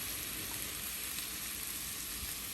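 Shrimp and sliced coconut frying in a pan for a Kerala-style shrimp fry, giving a steady, even sizzle of hot oil with a soft hiss and no talk.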